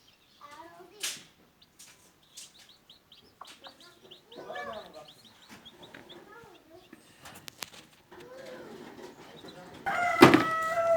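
Day-old baby chicks fed grated boiled egg, peeping in bursts of short high chirps alongside rooster crowing and hen clucking, with scattered voices and a louder clattering burst near the end.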